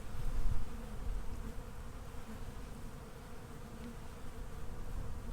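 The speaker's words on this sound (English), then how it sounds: "There's a lot of bees." Honey bees buzz continuously during a hive inspection, a dense, close, droning hum that swells slightly at the start and holds steady throughout, with no voices.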